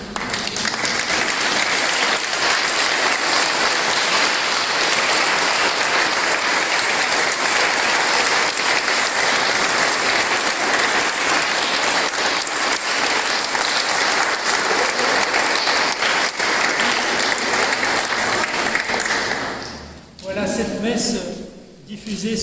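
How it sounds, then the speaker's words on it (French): At a centenary mass for the Scouts and Guides de France, a large congregation applauds in a dense, sustained wave of clapping that runs loud and unbroken for about twenty seconds before thinning into a few scattered claps. "on vous applaudit"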